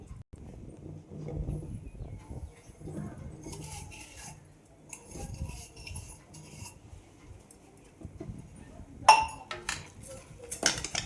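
A spoon stirs sugar into semolina kesari in a pan, giving intermittent soft scraping and clinking against the metal, with quiet gaps between bursts.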